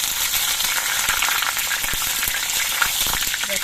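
Bay leaves and dried red chillies, broken into pieces, fry in hot mustard oil with a steady, close, crackling sizzle that holds evenly throughout, with no talking.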